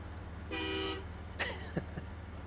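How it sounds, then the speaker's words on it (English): A truck horn in the video game SnowRunner gives one short, clear honk, followed by a few faint mechanical clicks over a low engine hum. "honk."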